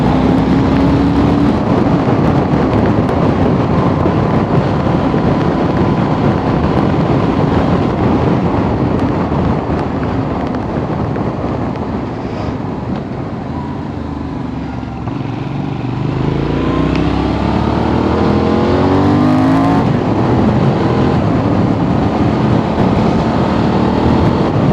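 A car cruising on an open road at around 50 mph, a continuous engine hum under heavy wind rush, with a rising tone of acceleration near the end.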